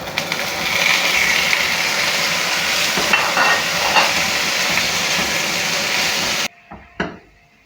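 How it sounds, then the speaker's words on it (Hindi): Paneer cubes frying in a tablespoon of oil in a pan, a loud steady sizzle and hiss close up with faint stirring scrapes, cutting off abruptly near the end to a couple of soft knocks. "अब पैन में 1 टेबल स्पून ऑयल डालेंगे। इसमें पनीर के क्यूब्स डालेंगे।"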